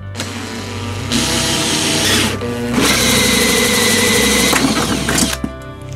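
An electric drill whirs loudly at close range in several bursts, punching a hole through a motorcycle part, its pitch rising and falling as it bites through material, then winds down.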